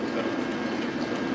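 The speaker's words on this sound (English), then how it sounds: "so currently we got a red line train standing by" A Red Line subway train standing at a station gives off a steady, moderately loud low rumble and hum with faint clicking, unchanging throughout.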